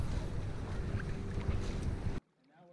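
A small sailboat under way with its sheet trimmed gives off a steady rush of wind and water noise, close and fairly loud, which cuts off abruptly near the end.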